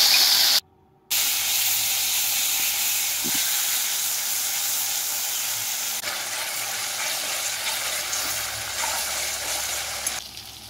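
Ginger and green chili paste with tomato hits hot ghee for a vegetarian paneer dish, raising a steady loud hissing sizzle after a brief silent gap, softening slightly toward the end.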